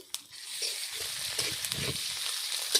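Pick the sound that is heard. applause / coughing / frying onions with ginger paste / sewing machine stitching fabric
frying onions with ginger paste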